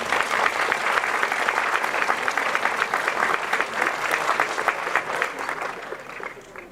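Crowd at a medieval town festival applauding the organising committee, a loud continuous clapping with many distinct hand claps, fluctuating slightly and carrying on to the end.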